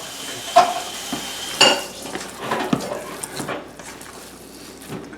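Meatloaf ingredients being mixed in a bowl, with clinks and scrapes of a utensil against the dish in irregular bursts at close range, and no talk over them.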